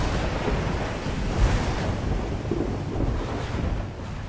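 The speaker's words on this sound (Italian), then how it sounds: "Riferirono di onde alte tra i 3 e i 7 metri, ma anche di una tempesta" A storm at sea with high waves of about 3 to 7 metres, heard as a loud, steady broadband roar of wind and crashing water with low rumbling surges, rough and continuous throughout.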